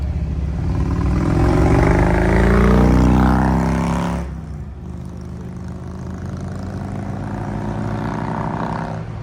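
A nearby Harley-Davidson motorcycle roars on a road, its loud engine swelling as it revs and then dropping to a lower steady drone, heard from a 1962 Porsche 356B roadster.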